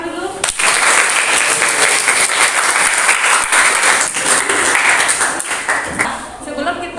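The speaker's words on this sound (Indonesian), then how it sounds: "Ayo berikan tepuk tangan dulu." A classroom of Indonesian students claps together after a lesson on Hindu-Buddhist history. The loud, dense applause runs for about six seconds, then tapers off at the end.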